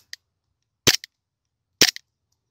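Two sharp airsoft pistol shots strike a 5 mm PETG plastic plate printed at 100% infill, each a loud crack with a quick plastic rattle after, about a second apart, with faint small clicks in between and no talk.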